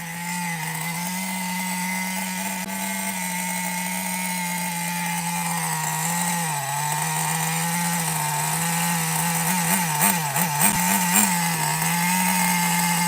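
A Megatech Nitro Razor RC car's small nitro engine runs steadily and loudly up close, a buzzing drone that wavers and stutters around the middle, as if the carburetor is slightly off.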